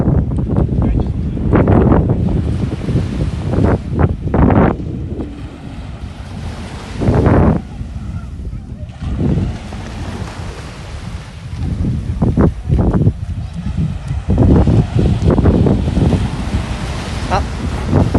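Ocean waves roll in at Laguna Beach, Phuket, with strong gusting wind. Repeated surges of surf crash close to the microphone, and a voice speaks intermittently between them.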